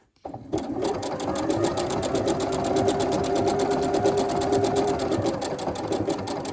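A sewing machine runs steadily while stitching a blanket stitch on an Orange Pekoe quilt block, a loud, fast, even mechanical whir with rapid needle ticks that starts abruptly and carries on without pause, no talking.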